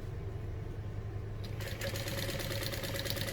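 Sewing machine stitching a vintage-style barrel bag, starting after a brief low hum into a fast, even run of needle strokes that continues to the end, close and alone.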